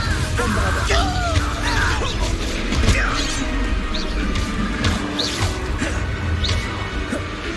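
A Bombarda spell blasting in Hogwarts Legacy during Dark Arts combat, loud crashing impacts and debris bursts layered over busy battle effects and whooshes, with several hits across the stretch.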